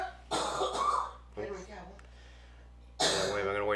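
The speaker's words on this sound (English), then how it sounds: "I'm going to wait till the wife stops coughing up a lung" A woman coughs in several harsh, throaty bursts, close and loud, with a pause between fits; brief talking may mingle with the coughing.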